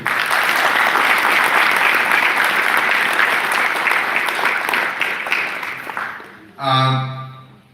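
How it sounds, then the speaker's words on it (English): Audience applause at an award ceremony: a large crowd claps loudly and evenly for about six seconds, tapering off before a voice begins speaking. "Although we all have given a round of applause at every award"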